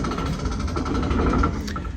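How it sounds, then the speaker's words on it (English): A Class 31 diesel locomotive on a heritage railway in the Yorkshire Moors builds vacuum brake pressure, giving a loud, close, rhythmic mechanical chugging over a steady engine drone. "vacuum brake is going up."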